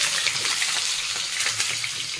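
Chicken pieces fry in hot Fortune oil for a curry-leaf chicken dish, giving a steady, close broadband sizzle that holds evenly throughout with no voices.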